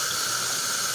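Running tap water rinses white button mushrooms at a sink, a steady close hiss of flowing water with no pauses and no voices.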